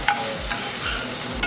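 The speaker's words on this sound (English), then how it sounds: "Fry up your carrots." Carrots fry in a pan, giving a bright, close sizzle with a few quick spatula scrapes and stirs over the steady hiss and no voices.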